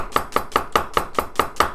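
A kitchen knife slices fish into thin pieces with crisp, evenly spaced chops, about nine sharp strikes in quick regular rhythm, close and clear with no talking.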